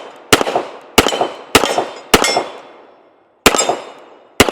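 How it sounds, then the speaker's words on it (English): A Colt M45A1 pistol fires six sharp, loud shots with ringing decay, spaced irregularly about half a second to a second apart, with a longer pause before the last two. "Let's go ahead and take a few more shots through it though"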